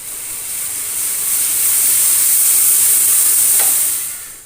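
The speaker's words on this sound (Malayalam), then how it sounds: "അപ്പോൾ അതേ നമ്മുടെ ചായ ഇവിടെ തിളച്ചിട്ടുണ്ട് കേട്ടോ" A pot of tea boils with a steady bubbling hiss that swells slightly and then fades, close by with no talking.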